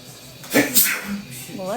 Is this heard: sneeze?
yes